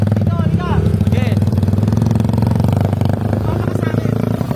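A motorcycle engine idling close by with a steady, rattly mid-pitched drone throughout, while people talk over it.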